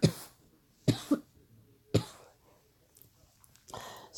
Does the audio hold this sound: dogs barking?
no